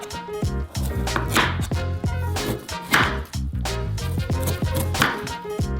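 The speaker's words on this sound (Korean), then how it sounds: "불필요한 살을 자르고 냉동 베이컨을 잘라서 접시에 놓은 다음" A knife chops frozen bacon on a plate in a steady run of sharp, close, fairly loud strikes, the regular rhythm pausing briefly now and then, with no talking.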